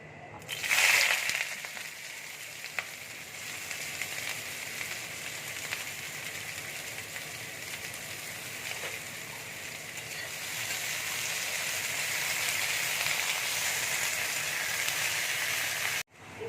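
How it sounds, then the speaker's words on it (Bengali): Onions dropped into hot oil in a wok for an omelette curry, a brief loud hiss at the start settling into a steady even sizzle that grows slightly louder toward the end, no talk. "কড়াইয়ে দেখো তেল দিয়েছি, তেল গরম হয়ে গেছে। এবার আমি পেঁয়াজটা ছেড়ে দিচ্ছি।"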